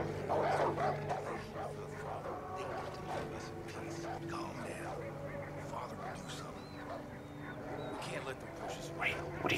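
A dog in the video game Far Cry 5 barks and whimpers amid a dense in-game mix of mechanical noise and steady background hum, the yips and whines scattered through roughly ten seconds.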